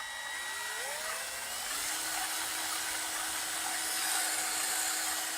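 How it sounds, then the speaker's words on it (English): A power drill spins a 3D printed planetary gearbox, giving a steady close whine with a rising pitch sweep early on, then a sustained hum and gear rattle with no speech. "I just made this adapter for my drill so we can see it moving."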